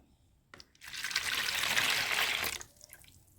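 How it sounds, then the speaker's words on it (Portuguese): Water poured into a bowl to start bread dough for a 60% wholegrain loaf, a steady splashing trickle about two seconds long that starts and stops abruptly in a quiet kitchen. "Vamos começar colocando a água."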